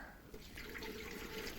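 Water poured into a magic cauldron during a stage trick, a soft, steady splashing fill that runs faint and continuous.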